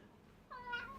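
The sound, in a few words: cat meowing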